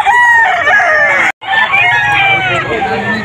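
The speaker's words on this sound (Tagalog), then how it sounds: "Mga pangalagang manok." A rooster crows loudly nearby at a pet market, a long drawn-out call broken by a brief gap, with other fowl and a murmur of people in the background.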